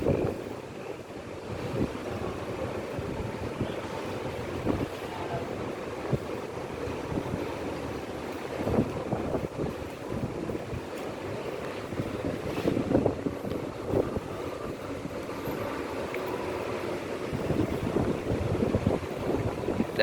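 Strong wind buffets around a moving ALS intercity bus heading toward Medan, a steady loud rushing roar with gusty swells and low rumble throughout, no voices.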